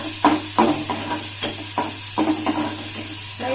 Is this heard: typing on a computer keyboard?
no